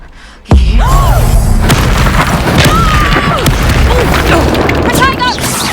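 A loud Confringo fire-spell blast erupts in the Hogwarts Legacy video game, a sudden booming burst followed by a sustained roaring, crackling rumble of battle with whooshing spell effects and brief voices mixed in.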